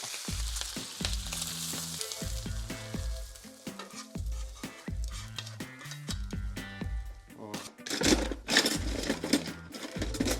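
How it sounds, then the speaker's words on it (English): Onions and bacon sizzle in a pot amid repeated clanks and scrapes of a utensil stirring, the frying steady underneath and swelling louder toward the end. "Let's get these onions and the bacon in the pot"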